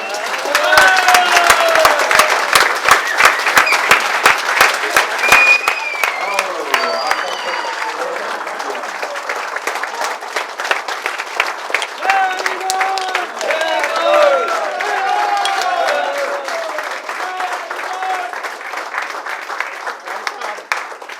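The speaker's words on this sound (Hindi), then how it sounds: "हमारा स्टाफ आ गया, उनके लिए जोरदार तालियां दें।" A hotel-event audience greets arriving staff with vigorous, crisp clapping that starts strong and gradually thins. A voice keeps talking over the applause throughout.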